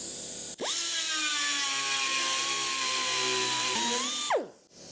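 A carbide cutter bites through the sheet-metal body of a 1967 Dodge Dart, whining loudly and steadily for about four seconds before spinning down, with no one talking.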